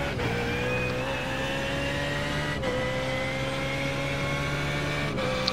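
A loud BMW Z4 GT3 racing car engine in iRacing drones steadily at the Nordschleife with rising harmonic pitch, as if accelerating through gears, with brief gear-shift dips along the way.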